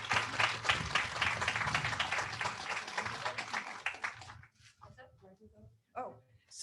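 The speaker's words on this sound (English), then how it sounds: "a big round of applause for the Humane Society" A crowd at a charity giving event claps and applauds loudly for several seconds, then the clapping fades out, leaving scattered quieter sounds and a brief burst near the end.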